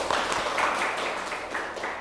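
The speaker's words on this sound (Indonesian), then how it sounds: "Oke, ini kelompoknya Fani, silakan tepuk tangan dulu." A short burst of scattered classroom clapping for a student group after a presentation, fairly steady for two seconds, with a faint murmur of voices underneath.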